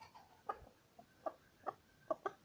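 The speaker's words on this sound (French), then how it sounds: "Aujourd'hui on a mon coq Orpington de variété anglaise" An English-variety Orpington rooster gives six short, quiet clucks in an uneven rhythm, fairly close against a faint background with no talking.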